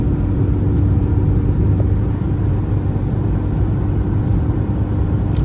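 Fiat Egea 1.3 Multijet diesel car overtaking on an open road, heard from inside as a steady, loud engine drone and road rumble that holds constant throughout with no talk.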